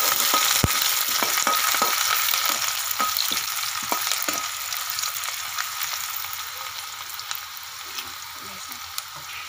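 Sliced onion fries in hot oil with bay leaf and cumin for a mixed dal, giving a steady, even sizzle. A few clinks from a utensil come through, and no one speaks.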